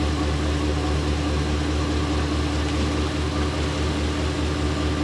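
A truck camper's engine runs steadily with a low, even rumble, close and constant without any speech.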